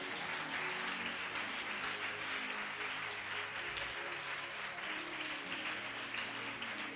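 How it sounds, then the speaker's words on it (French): A church congregation applauds steadily throughout a worship service, a dense, continuous wash of clapping at even loudness with no voices standing out. "Acclame Jésus-Christ"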